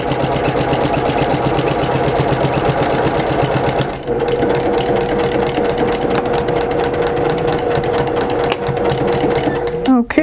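A sewing machine stitching baby blanket fabric runs continuously and loudly up close with a fast steady rattle, briefly pausing near the middle, then a quick whir at the end.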